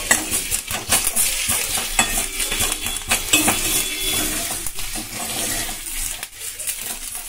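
Neem leaves frying in a pan make a dense, continuous sizzle with scraping and clinking of a stirring utensil throughout.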